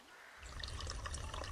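Water pours and trickles steadily as a well is used to refill water in a farming video game, a continuous splashing stream starting after a brief quiet moment.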